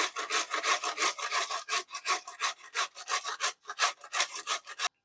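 A carrot is rubbed on the big side of a grater in fast, even back-and-forth strokes, each a crisp rasp, loud and close with near silence around it, ending abruptly after about five seconds.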